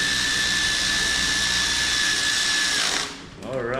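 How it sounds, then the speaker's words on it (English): An electric ratchet drives a bolt during AC repair work on a Mercedes A250, whining steadily for about three seconds before stopping, followed by a brief voice. "Never rely on an electric ratchet."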